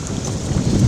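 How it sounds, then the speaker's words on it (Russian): Strong, gusty wind buffeting the microphone at a dam during feeder fishing, a steady low rumble with rising surges and water noise, no voices. "Ветер."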